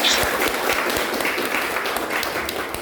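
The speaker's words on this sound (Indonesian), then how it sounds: "kasih aplaus untuk kita semuanya" Audience applause at a morning class session, a dense, steady burst of many hands clapping close by for about three seconds.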